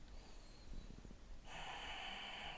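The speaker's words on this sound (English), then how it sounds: "you can hear the breathing as you inhale, exhale" Steady breathing during a yoga flow: a soft, faint inhale, then a sharper, airy exhale through the nose, heard alone and close up.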